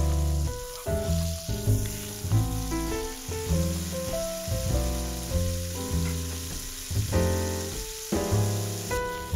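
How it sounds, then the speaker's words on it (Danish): A Danish Pariserbøf beef patty sizzles steadily as it fries in a pan, a continuous bright hiss heard under loud background music with a melody. "Og så ryger den på panden og steges omkring 2 minutter på hver side"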